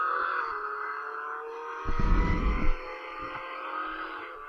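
A car engine in the Roblox Jailbreak game, stuck in mud, droning steadily with a brief louder rumbling burst midway before settling back to the same hum.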